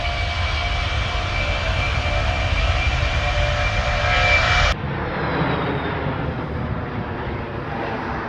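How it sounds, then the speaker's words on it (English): C-17 military transport aircraft taxiing toward the runway before takeoff, a loud steady roar of jet engines with a high whine, cutting abruptly to a somewhat quieter sustained engine rumble partway through. "Then we started taxiing toward the runway, and it was almost time for takeoff"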